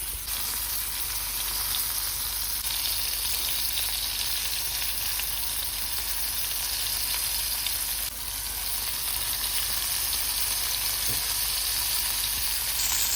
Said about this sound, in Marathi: बोंबील जे आहेत व्यवस्थित असे एका साईडून फ्राय झालेले आहेत